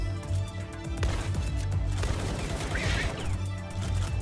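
Rifle fire in the video game Palworld crackles as rapid, dense bursts of shots over a low rumbling game soundscape, continuous and fairly loud across the whole moment.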